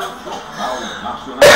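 A single loud, close cough breaks out abruptly at the very end, after a stretch of quieter background sound.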